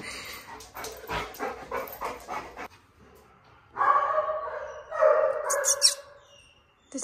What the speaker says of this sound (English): He's a Rottweiler.